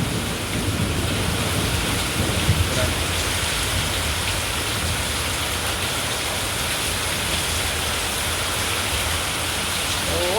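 Heavy rain pours down steadily and loudly throughout, a dense continuous wash with low rumbling underneath.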